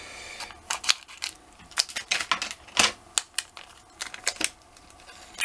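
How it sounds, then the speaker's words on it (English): Scissors snip through the plastic packet of a PS2 modchip, a quick irregular series of sharp close-up cuts and crinkles with no talking. "Right, scissors."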